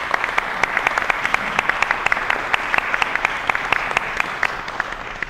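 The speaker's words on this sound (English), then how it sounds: "deserve the last round of applause" Applause from the audience at a panel discussion on nuclear issues, a steady wash of many hands clapping in a dense, even rhythm for the full stretch, with no voices over it.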